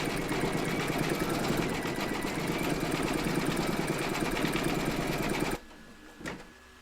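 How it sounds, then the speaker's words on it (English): Embroidery machine stitching a red-thread crown cap, a steady fast rapid-fire needle clatter running loud and continuous for over five seconds, then stopping abruptly with a brief faint clunk afterward. "load your red thread colour for the cap into your machine, and then stitch round number 8"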